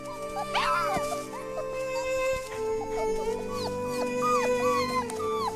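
A puppy whimpers and yips in short, high, rising cries, close by, over a steady background hum.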